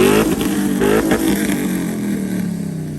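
A truck with a 4.8 engine, mild cam, long tube headers and aftermarket exhaust revs loudly and close, a steady throaty drone with a few quick blips of throttle near the start.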